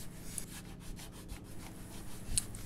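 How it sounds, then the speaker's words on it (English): Red automotive glazing putty being sanded off a faired-down fiberglass seam, heard as steady, rhythmic back-and-forth abrasive strokes, close and fairly quiet, with no talking. "The red material I'm sanding off here is an automotive glazing putty"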